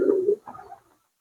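Dobash pigeons kept with high-flyer birds give a low, soft coo lasting about a second, a steady murmur followed by a shorter, quieter second phrase, close by with no talk.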